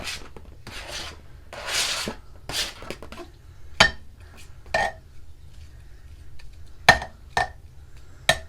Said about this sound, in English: we're going to just toss our onions in here